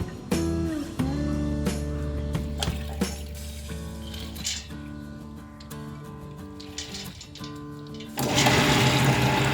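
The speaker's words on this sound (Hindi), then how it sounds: "हम ये पानी हटा देते हैं और इसे वेट ग्राइंडर में इसे स्मूथ पेस्ट ग्राइंड कर लेंगे।" A wet grinder churns soaked urad dal into a smooth idli batter paste, a steady mechanical hum with rhythmic clicks and scraping, ending in a louder burst of noise.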